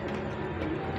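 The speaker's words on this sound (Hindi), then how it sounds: "ये कबूतर है" A pigeon kept by a hobbyist coos briefly and softly at close range, a short low murmuring call against faint background noise.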